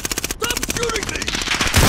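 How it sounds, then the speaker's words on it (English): Rapid automatic gunfire from a video game shooter, a dense rattling burst of close shots running continuously and growing heavier toward the end, with a player's voice talking over it. "Stop shooting me!"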